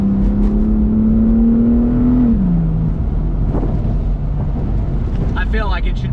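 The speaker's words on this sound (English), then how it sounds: "I feel like it should be illegal to have a car that sounds this good." A car engine hums in a steady rising tone, then the pitch drops as it eases off, leaving a low exhaust rumble and faint crackles.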